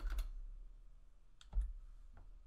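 A couple of sharp mouse or key clicks when a program run is triggered in automation software, close and crisp with quiet gaps between them and no talking.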